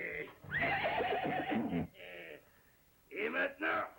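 A horse whinnies close and loud in two bursts, a long shrill neigh followed by a shorter pair of calls after a pause.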